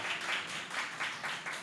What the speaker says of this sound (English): please give it a round of applause to yourselves for showing up.